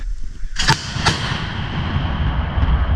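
A CV90 infantry fighting vehicle's 40 mm autocannon fires two sharp booming shots in quick succession, loud and close, followed by a long rumbling roar that fills the rest of the moment.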